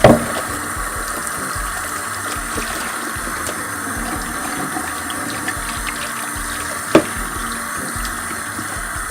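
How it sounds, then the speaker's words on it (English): Tap water runs steadily into a sink while a fryer is washed, a continuous close gush with a knock at the start and another brief clunk near the end, no talking. "we're going to wash this one more time, get this completely clean."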